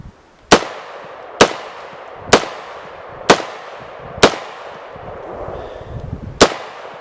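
A CAR15 retro reproduction rifle fires five sharp, loud shots at an outdoor range, spaced roughly a second apart with a slightly longer gap before the last, each crack ringing out briefly with no talking.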